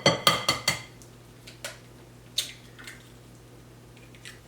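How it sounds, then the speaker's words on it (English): A utensil clinks and scrapes against a bowl while mixing muffin batter with vanilla extract and eggs, several sharp knocks first, then sparser taps over a faint hum, no talking. "just mix it until everything is nice and well combined"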